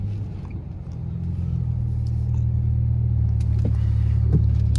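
Car driving on a snowy road, heard from inside as a steady low rumble of engine and tires that swells slightly and holds, with no talk.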